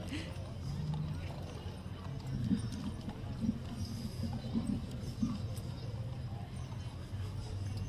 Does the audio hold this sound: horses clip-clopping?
yes